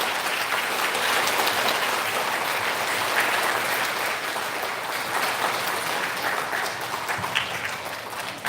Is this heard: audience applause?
yes